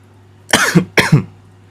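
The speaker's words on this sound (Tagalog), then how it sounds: "Excuse me, may ubo talaga ako eh." Two quick, loud coughs from a man right at the microphone, harsh and close together, with silence around them.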